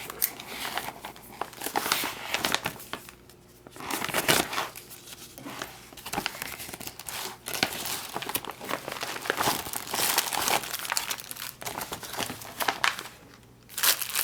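Crinkling and tearing of an MRE ration pouch (Menu No. 1 Ratatouille) being cut and opened, close and busy with repeated rustles and crackles over about fourteen seconds, with little or no talk.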